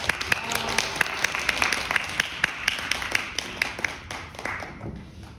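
An audience at a disability-awareness concert applauds to welcome a speaker, with many hands clapping in a sustained, moderately distant round marked by crisp individual claps.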